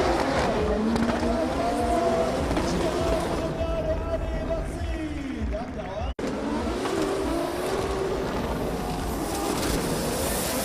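Drift cars compete at the Oman International Drift Championship, engines revving and wailing in rising and falling tones with tire noise, heard from a distance beneath a commentator's voice.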